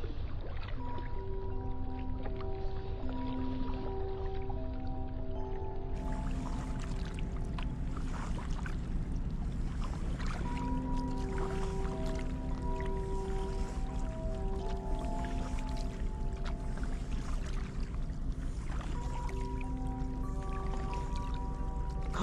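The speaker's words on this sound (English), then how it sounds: "Calming sounds of the water are punctuated by the sounds of crackling ice." Water laps gently around kayaks in an Antarctic cove, with faint crackling of surrounding ice, scattered soft clicks and splashes heard beneath steady background music.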